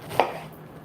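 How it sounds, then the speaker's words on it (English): A single knife stroke slicing down the side of a fresh pineapple, one short crisp cut close up against a quiet background. "And then you just want to cut down the side of the pineapple"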